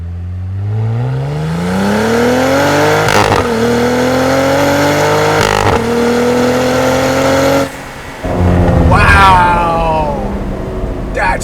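A Cadillac CT4-V Blackwing engine climbs hard through first gear, cuts out for a split second on a no-lift shift into second, then surges on again, loud and close.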